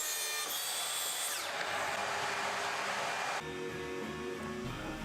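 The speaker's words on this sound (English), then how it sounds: "I can line up my track saw track to that mark, offsetting it slightly to account for the curve of the blade, and then I can make a cut down the length of the lid" A track saw rips down the length of a walnut lid with a loud, steady high whine that holds unbroken for several seconds, close and alone with no voices.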